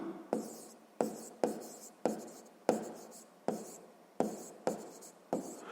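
A pen scratches across paper in a steady rhythm, about a dozen short, sharp strokes each fading quickly, close and quiet with no talking, while a sixth-grade math exercise is worked out.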